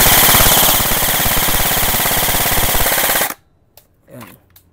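Airsoft JG/GE M4A1 folding-stock rifle rattling off a loud, rapid full-auto burst for about three seconds until the magazine empties, then stopping abruptly, followed by a few faint handling noises.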